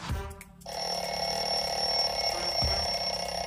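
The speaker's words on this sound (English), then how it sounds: "Did Jeff hear the alarm clock ring?" An alarm clock rings nearby, a loud, continuous metallic bell trill that starts after a short thud and keeps going steadily to the end.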